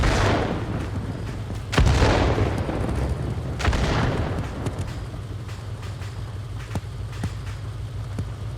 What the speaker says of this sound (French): Et on a de l'artillerie derrière nous.